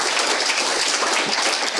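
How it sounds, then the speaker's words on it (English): Warm applause from a conference audience at a closing session of lightning talks, a dense steady wash of clapping filling the whole moment at an even level, with no speech over it. "give me another warm applause."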